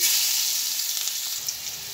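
Bay leaf, whole cumin seeds and chopped garlic fry in hot oil for Bangladeshi rohu fish roe with potato, giving a steady close sizzle and hiss that runs unbroken from start to end with no voices.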